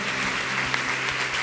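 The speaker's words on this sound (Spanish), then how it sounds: "Le damos un aplauso." Church congregation applauding during a general worship meeting, a dense, even patter of many hands clapping at once, steady and fairly loud with no voices on top.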